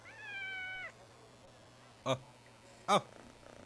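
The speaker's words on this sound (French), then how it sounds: "Ouh, un petit chat." A small cat meows twice in Assassin's Creed Mirage, two short separate calls in the latter half, following a longer tonal game sound at the start; a quiet steady hum runs underneath.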